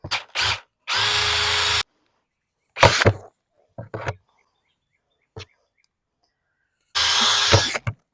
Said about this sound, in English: We'll just kind of try to drill through these.